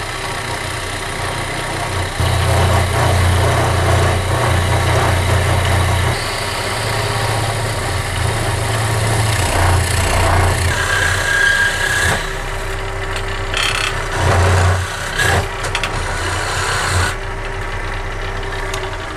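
A bowl gouge hollows wood on a lathe while turning a dead-blow mallet, giving a steady scraping, rubbing cut over the low drone of the running lathe motor, with brief pauses and no talking.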